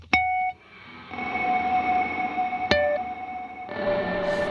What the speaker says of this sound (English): the reverberated signal is coming in a little later now